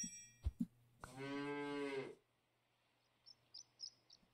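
Single cartoonish cow moo in the game Super Auto Pets, clear and sustained for about a second, preceded by short clicks and followed by faint chirpy game sounds, with no talking.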